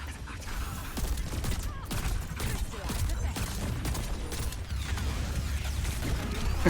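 Grenades fired in the video game Overwatch, heard as a dense run of overlapping bursts and blasts that continues steadily throughout, with sharper individual pops standing out here and there.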